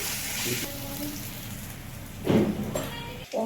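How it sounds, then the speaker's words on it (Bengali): Pomfret fish frying in hot oil, a steady sizzle running throughout with a louder crackling burst near the end as a piece shifts in the pan. "মাছগুলোকে এক এক করে সবগুলো ভেজে নিচ্ছি"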